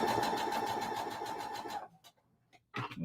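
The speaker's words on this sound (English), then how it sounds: "now let's sew this together." A sewing machine stitches quilt block pieces together in a fast, steady whirring run at close range, then stops abruptly, followed by a few faint clicks and a short renewed burst.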